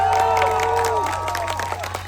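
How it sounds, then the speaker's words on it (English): Audience at a campaign speech by Zohran Mamdani, a New York City mayoral candidate, at a fundraiser, cheering and clapping loudly throughout, with shouted voices rising over a steady roar of applause. "But as you cheer"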